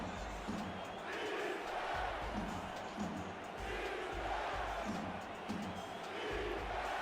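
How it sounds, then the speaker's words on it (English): A packed football stadium crowd in Tallahassee roars loudly and continuously before a third-down play, a dense, distant wall of cheering and shouting with rhythmic surges. "Tallahassee crowd getting loud, trying to will their team into a big stop on third down."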